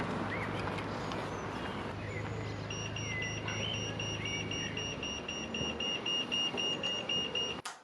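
A pedestrian signal at traffic lights gives a steady, repeated high beeping over the constant rumble of nearby road traffic, starting partway through and continuing to the end.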